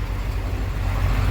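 A Thomas bus engine runs nearby, giving a steady, loud low rumble throughout with no speech.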